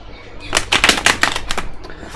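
Tarot cards shuffled by hand in a quick burst of crisp, riffling flutters, several sharp ruffles close up over a couple of seconds with no talking.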